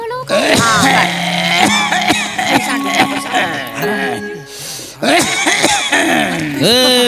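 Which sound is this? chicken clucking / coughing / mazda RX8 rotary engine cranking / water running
coughing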